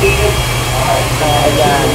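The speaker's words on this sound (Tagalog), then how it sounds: "Ito, blower na tayo. Blower, ayan. Ang lakas ang blower." Hair blow dryer running in a salon, a loud steady whooshing roar with a low hum, continuous over the short span, with people talking nearby.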